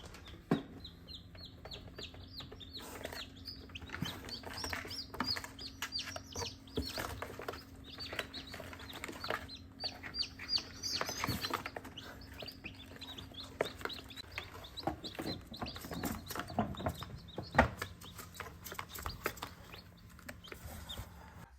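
Newly hatched baby chicks chirp continuously in a brooder, a busy layer of high, thin peeps repeating throughout at moderate distance over a faint steady hum, with no talking.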